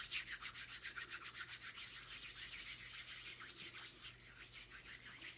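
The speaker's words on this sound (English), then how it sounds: "Warming the lotion up in my hands." Hands rubbing lotion together, a close, quiet, rhythmic swishing friction that repeats quickly and evenly, then softens into a looser rubbing toward the end, with no talking.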